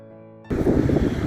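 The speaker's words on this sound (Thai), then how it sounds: "ลมแรงมากวันนี้ฮาวายอยู่บนเขาสูงมากเลยนะคะ" Strong wind buffets the microphone at a high mountain viewpoint in Hawaii, a sudden loud roaring rumble that bursts in after a half-second of faint tonal sound and keeps gusting.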